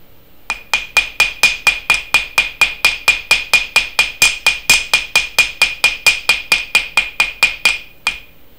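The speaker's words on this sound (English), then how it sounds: "my hammer strikes mostly on the top" Rapid, evenly spaced metallic hammer taps on wire paddles ring out, about thirty sharp strikes in a steady rhythm, close and bright, stopping with one final hit.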